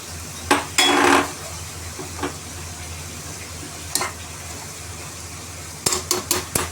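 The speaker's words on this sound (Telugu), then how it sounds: "ఇప్పుడు దీంట్లో మనం కట్ చేసి పెట్టుకున్న సొరకాయ ముక్కలు వేసేసుకుందాం" Pieces of bottle gourd go into a pot of mutton curry and get stirred, giving a steady low sizzle broken by a few sharp scrapes and clanks of a metal spoon against the pot.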